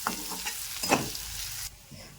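Sliced onion frying in a pan for a Maharashtrian brinjal bharit, a steady close sizzle with a few stirring scrapes, ending abruptly near the end.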